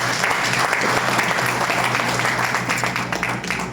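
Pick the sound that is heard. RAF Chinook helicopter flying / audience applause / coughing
audience applause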